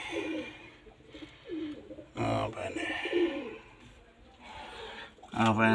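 Cooing from pigeons in a coop rolls on quietly at close range, broken by loud bursts of nearby talk and handling noise.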